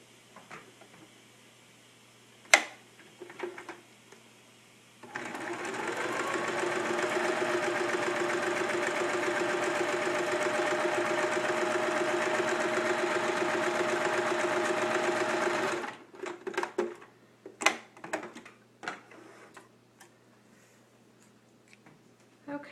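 A sewing machine quilting very small stitches through a 100% cotton quilt runs steadily and loudly for about ten seconds, with brief handling clicks and taps before and after.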